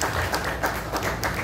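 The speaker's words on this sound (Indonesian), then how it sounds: "tepuk tangan dulu untuk Bapak Camat" Scattered applause rises from an audience at an Indonesian village development planning meeting in Sukoharjo, greeting the district head, with a steady, moderate crowd noise and a few voices underneath.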